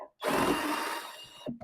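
A power drill or driver whirs briefly and loudly while loosening a screw on a 6 kVA Felicity solar hybrid inverter, a single steady burst of about a second and a half, close up.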